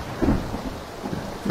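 Rain and rolling thunder in the PUBG battle royale game on the Erangel map, a steady wash of rainfall with low rumbles swelling and fading, no voices.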